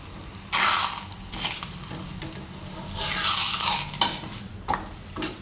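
Thepla flatbread of kalimali greens roasting on a pan over medium gas, with bursts of sizzle and scraping as it is pressed and turned, loud near the start and again mid-clip, no talk.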